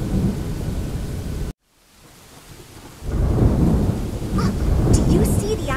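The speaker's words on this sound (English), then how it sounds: "Oh, ouch! Oh, my armadillo! The storm!" A thunderstorm roars with heavy rain and rumbling thunder, loud and dense, cutting off abruptly to near silence before the downpour and thunder surge back even stronger.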